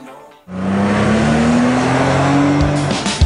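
A Suzuki SX4 car accelerates hard with a loud, sustained tire squeal over a rising engine drone, starting abruptly after a brief quiet moment and running close and steady to the end.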